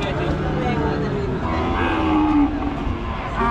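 Cattle lowing amid the dense, steady din of a crowded livestock market at Panchbibi haat, with voices mixed into the constant background noise and one moo rising clearly around the middle.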